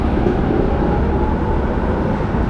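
A continuous heavy rail rumble with metallic rattle, close and loud, as a tram rolls by without pause in Belgrade, Serbia.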